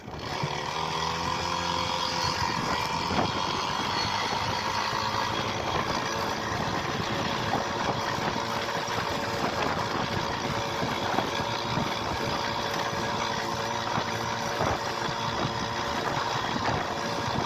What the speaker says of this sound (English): The engine tone will not change from bottom to top.